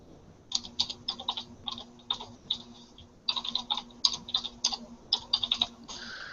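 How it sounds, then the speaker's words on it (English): A computer keyboard typed on with one hand, heard as quick bursts of clicky keystrokes in uneven clusters with short pauses, close and fairly quiet, with no talking. "Sorry, I'm typing with one hand."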